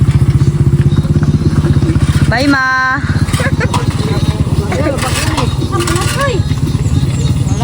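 A motorcycle engine runs close by with a steady, pulsing putter, and a horn-like tonal blast cuts in briefly near the middle. People talk over it throughout.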